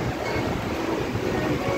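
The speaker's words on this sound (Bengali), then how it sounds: "জোরে নেমে গেছে, একেবারে জোরে নেমে গেল তো বৃষ্টি" Heavy monsoon rain pours down at a beach in Goa, a dense, unbroken roar of rain blended with surf and wind.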